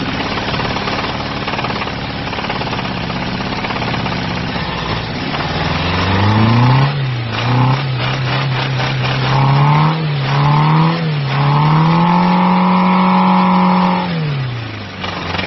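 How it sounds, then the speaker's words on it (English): A drift truck's engine idles rough, then revs up repeatedly in rising and falling surges, loud and close, ending in a long sustained high rev that drops off at the end. "I'm gonna show you a clip of the last time this thing ran."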